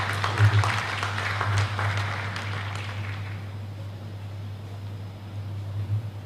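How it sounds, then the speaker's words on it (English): Audience applause at a book launch, a brief burst of clapping over a steady low electrical hum that fades after a few seconds and leaves the hum and room noise. "another round of applause for him, guys."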